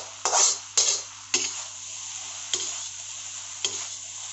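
A spatula scrapes around a pan of Maggi noodles with egg and rice, giving five separate stirring strokes, the first two close together and louder, over a quiet steady hum.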